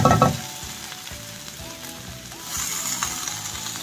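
An egg and dry fish curry with mango and chili powder sizzles loudly in a pan while it is stirred, with scraping strokes over a continuous close frying hiss and no speech.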